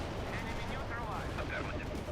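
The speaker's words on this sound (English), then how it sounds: "Heavy artillery strike fire." Continuous rumbling battle din of a heavy artillery strike in the real-time strategy game World in Conflict: Soviet Assault, with dense booms and gunfire mixed with faint radio chatter.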